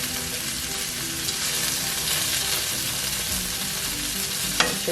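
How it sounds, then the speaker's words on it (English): Vegetables and pasta fry in a pan with a loud, constant sizzle, close up, with a brief stirring clatter near the end and no voices. "Just kind of mix everything around in the pan."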